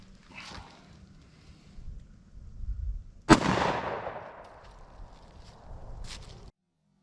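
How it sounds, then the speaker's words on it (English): A Smith & Wesson M&P pistol fires a single .45 ACP round outdoors, one sharp loud crack followed by a long fading rumble and echo, with faint shuffling before and after. "First, I will do the 45 ACP out of the M&P."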